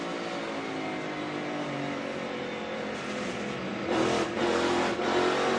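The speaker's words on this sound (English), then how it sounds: "Hear him jabbing that throttle," A NASCAR race car at North Wilkesboro Speedway buzzes along steadily as the driver jabs the throttle, the engine note surging in short louder bursts toward the end, heard at a distance without talk.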